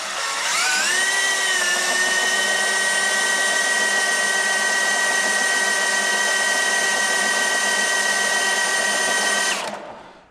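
Electric drill driving a tractor transmission pump for a pressure test on a 3-speed gearbox, a loud, steady high whine that spins up, holds for about nine seconds, then winds down.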